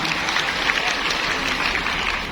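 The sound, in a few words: applause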